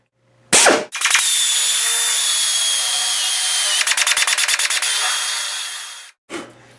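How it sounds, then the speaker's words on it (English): A small drill bit bores holes through a car body panel while a Triumph Spitfire is being restored. Loud, close whining drill runs in two long bursts with a brief stop, a rapid ratcheting chatter partway through, and sharp clicks at the start and end. "I got a small drill bit here and slightly larger diameter set screws"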